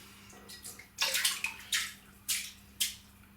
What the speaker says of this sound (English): He says taking the soap off his hands.